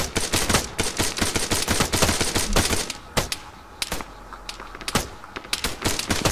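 Rapid bursts of automatic gunfire in the Arma 3 military shooter, loud and close, with dense volleys in the first half that thin out into scattered shots later.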